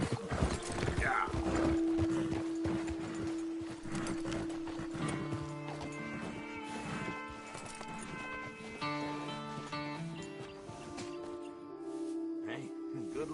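Horse hooves clip-clop in Red Dead Redemption 2, a steady rhythmic plodding that runs under game music and a voice talking throughout.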